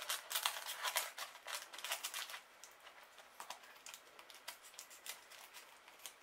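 Scissors trimming a sheet of glued, mostly dry paper craft: a run of crisp, close snips and paper rustles, dense for the first couple of seconds, then sparser, irregular cuts, with no talk.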